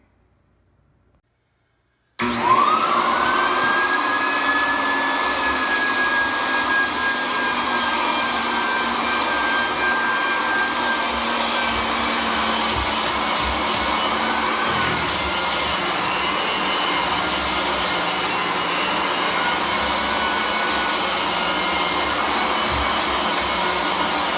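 A floor edger sands the edges of a hardwood floor during refinishing, starting abruptly after a brief silence and then running as a loud, steady motor whine and roar for the rest of the clip.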